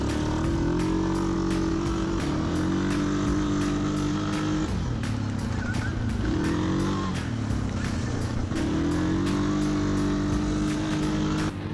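Suzuki KingQuad 750 ATV engine cruising along trails, a steady loud motor drone with gentle rises and dips in revs throughout, no talking.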